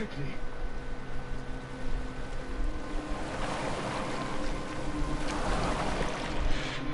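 A boat sails across open water in Assassin's Creed Valhalla, with a continuous wash of waves and wind that swells toward the end, heard under character voices talking.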